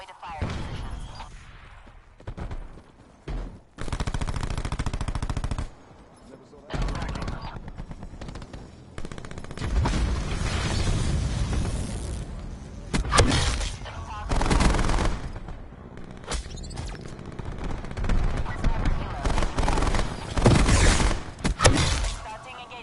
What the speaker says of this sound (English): Starting engagement. Taking fire. We're taking damage.